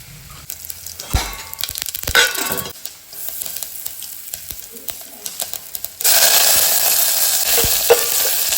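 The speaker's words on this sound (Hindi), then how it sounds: "यहाँ पे मैंने ली है घी, इसमें डाले थोड़ी मेथी और उड़द दाल, थोड़ा सा जीरा।" Spices (fenugreek, urad dal, cumin) in hot ghee sizzling with stirring and scraping, bursts of crackle early, then a loud steady sizzle takes over in the last few seconds.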